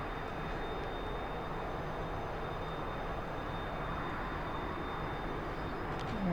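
A T-45C Goshawk jet trainer engine in DCS flight simulation hums as a steady, even drone with little change in level, with no other sounds over it.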